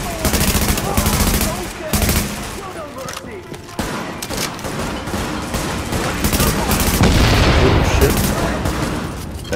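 Rapid automatic gunfire and bursts of shooting at enemies in Tom Clancy's The Division, loud and sustained throughout, with players talking over the shots.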